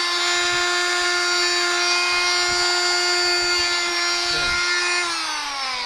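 An oscillating multi tool cuts into a pumpkin while carving a jack-o'-lantern, giving a steady high-pitched buzzing whine that runs continuously and drops in pitch near the end, with faint scraping beneath.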